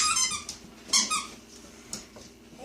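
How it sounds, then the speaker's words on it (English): A puppy plays with a squeaky toy, giving several sharp, close squeaks at irregular moments with quieter rustling in between. "He really likes those squeaky toys."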